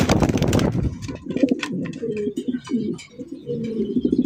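Pigeons coo repeatedly in a loft, soft rolling calls close by and steady throughout, after a brief burst of broadband noise at the start.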